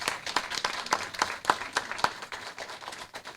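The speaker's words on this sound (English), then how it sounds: "Let's give them both a round of applause" An audience at an announcement with Governor Hochul and Senator Gillibrand applauds, many hands clapping at close range with distinct individual claps standing out in an uneven rhythm.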